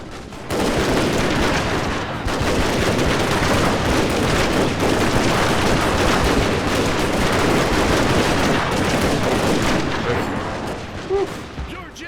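Dense, loud video game battle gunfire, continuous overlapping shots and bursts with booms that run nearly unbroken for about ten seconds before thinning out, with no talk.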